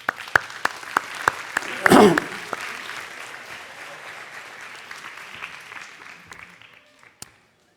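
An audience at a mayor's 2023 New Year address in Saint-Germain-Nuelles, France, applauding: a few scattered, separate claps grow into a brief burst of applause, then thin out into light clapping that fades away.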